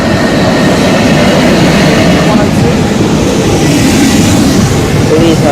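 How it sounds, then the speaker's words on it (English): Train running through Ipswich station on the Great Eastern Main Line, a loud, steady broadband rumble with wheel noise throughout, close by and continuous for the whole stretch, with no one speaking. "So these are our 2 final trains of the day."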